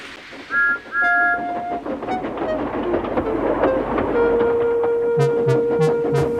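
A steam engine train rolls along with a steady rumble and rhythmic clatter, short whistle-like tones early on and a sustained tone later, with repeated puffing bursts near the end.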